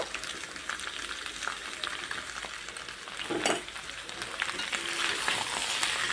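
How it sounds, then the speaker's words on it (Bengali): Boiled, cut potatoes with a little turmeric fry in a kadai, giving a continuous, dense sizzle up close that swells slightly midway, with a few soft stirring knocks. "আলুগুলোকেও ঠিক একইভাবে ভেজে নেব আলুর মধ্যে আমি একটু হলুদ দিয়ে দেব"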